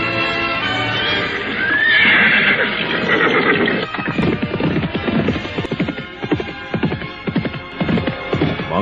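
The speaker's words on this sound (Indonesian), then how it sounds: "Maka 2 ekor kuda berderap meninggalkan padepokan Dandang Kandaga di kaki Gunung Gangsi" Two horses whinny and then gallop off from a hermitage at the foot of a mountain, a loud neigh giving way to a steady drumming of hoofbeats over a low hum, with no voices.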